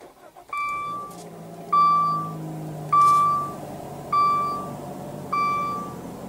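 Five evenly spaced electronic chimes sound inside a 2015 Dodge Dart as the push-button ignition is pressed with a foot on the brake, each tone clear and close, with a faint low cabin hum beneath and no talking.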